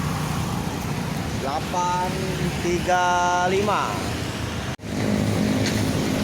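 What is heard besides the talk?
Sultan Class coach bus passing on road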